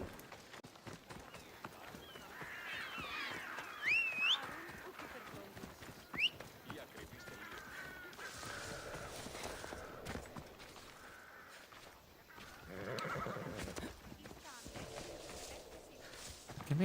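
Horse hooves clip-clopping in Assassin's Creed Odyssey, with a brief whinny mixed into continuous game sound and a person talking over it.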